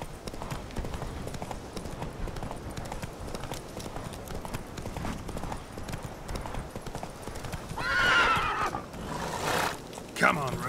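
Geralt's horse Roach gallops in a video game with continuous rhythmic hoofbeats, then neighs loudly twice toward the end.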